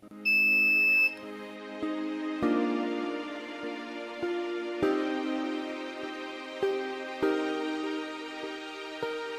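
A CD4071 OR gate alarm circuit sounds a steady electronic buzzer tone at first, followed by a series of tonal beeps and clicks at irregular intervals, moderately loud and alone.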